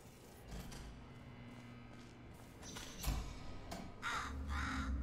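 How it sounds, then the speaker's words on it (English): A crow caws in the video game Portal Stories: Mel, several harsh calls set against a low ambient hum, with a few dull thuds mixed in and no talking. "Hi, Crow."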